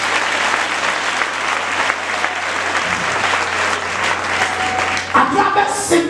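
Church congregation applauding together, a dense steady wash of many hands clapping that fades near the end as a voice comes in.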